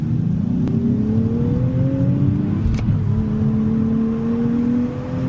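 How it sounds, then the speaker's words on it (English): A 2027 Nissan Z NISMO with a manual gearbox accelerates hard on a highway, its engine a loud, close, continuous drone that climbs in pitch. The pitch drops briefly at a gear change midway, then rises again. "I'm going to accelerate in an exciting kind of manner and see how it performs."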